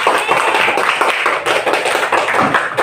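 A classroom of children applauding a classmate, dense rapid clapping from many hands that stays loud and even for a few seconds, with no talk over it.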